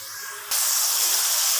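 Water poured into a pan of frying onions and garlic sets off a sudden loud, steady sizzling hiss after a quieter fry, close up with no talking.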